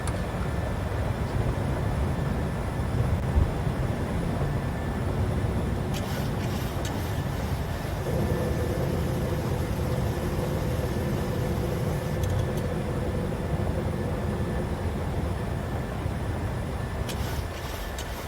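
Steady, loud roar of Boeing 737 jet engines climbing after takeoff, a constant broadband rumble heard from inside the aircraft with a faint whine above it, no speech.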